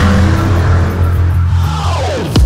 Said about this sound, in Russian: Это рев движка.